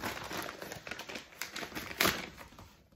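Paper and plastic crinkle and rustle near at hand as a publisher's mailing envelope is torn open, in a steady run of busy handling with one sharper rip partway through, no one speaking.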